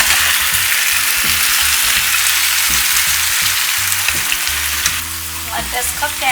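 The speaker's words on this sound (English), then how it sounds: "Now we're going to add all those tomatoes." Tomatoes hit a hot pan for a pizza sauce and sizzle loudly and steadily. Rhythmic scraping stirs run underneath and a sharper clatter comes toward the end, all up close with no speech.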